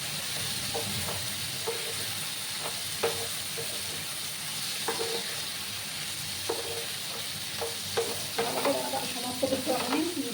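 Turmeric is stirred into small kucho chingri prawns frying in a pan, with repeated scraping strokes of a spatula over a soft, steady sizzle that grows busier toward the end.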